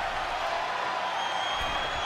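A wrestling arena crowd in WWE 2K24 cheers in a steady, dense roar that holds at one loud level throughout, with no distinct individual voices standing out.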